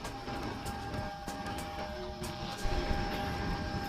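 A small airplane sits at an airport gate during boarding, its engine giving a steady, moderately loud whine and drone with a thin high tone, joined by scattered clatter and a louder rumble near the end.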